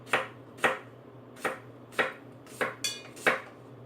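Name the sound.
stainless steel pot clanking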